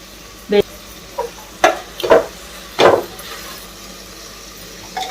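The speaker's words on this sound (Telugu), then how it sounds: "2 కట్టలు పుదీనా సన్నగా చాప్ చేసుకొని వేసుకోవాలి. బాగుంటుంది, ఫ్రై చేయండి అట్లాగా." Finely chopped coriander and mint leaves fry in a pan for veg biryani. Five or six distinct stirring scrapes and rustles rise over a quiet sizzle, spaced irregularly and heard close.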